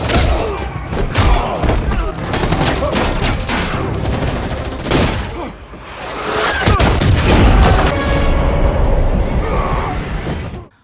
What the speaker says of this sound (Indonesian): Nolan mencampur sabun dengan gliserin sehingga membuat ledakan.